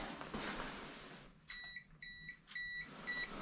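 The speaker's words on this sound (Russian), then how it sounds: "что-то пищит" A series of short, high electronic beeps repeats in a steady rhythm, about four pulses, over faint background noise with no talking.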